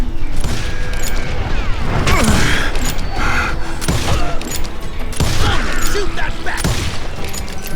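Gunfire in the Gunslinger video game, loud booming shots and clattering mechanical bursts over a dense game soundscape, close and continuous with a few distinct blasts.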